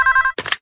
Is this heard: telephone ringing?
yes